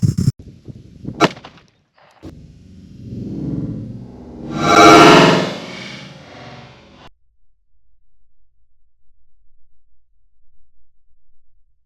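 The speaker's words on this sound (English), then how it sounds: "I'm gonna fire one more." A single S&W Bodyguard 2.0 pistol shot of Hornady ammunition fired into ballistic gel, a sharp close crack followed by a swelling rumble that fades into quiet.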